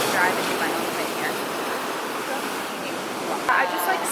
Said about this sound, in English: The waves are huge. I've never seen them this big in the bay, ever.